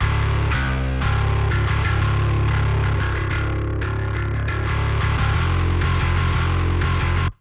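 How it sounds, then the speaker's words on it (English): Bass guitar run through a fuzz distortion plugin, a thick, saturated, heavily clipped tone playing a steady riff with sustained notes and short rhythmic stabs, loud and alone throughout. "And lastly, we got fuzz, which is the most over-the-top one here."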